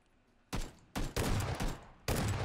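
Rapid bursts of gunfire in PlayerUnknown's Battlegrounds, with several loud separate volleys of automatic shots punctuated by short pauses, fairly close and sharp.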